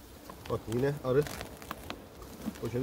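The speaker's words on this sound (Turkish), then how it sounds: "Bak yine arı" Honey bees buzz faintly around a beehive during November colony care and winter preparation, a low, soft hum running beneath a person talking nearby.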